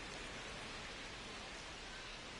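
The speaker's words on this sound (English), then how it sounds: "the field's not going to be able to hold up if the rain gets any worse than this" Heavy rain pouring onto a baseball field in the MLB The Show 26 video game, a steady, even hiss of dense rainfall that holds without break or change throughout.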